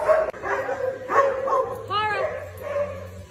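A small dog yips and whimpers excitedly a few times while several people talk over it close by.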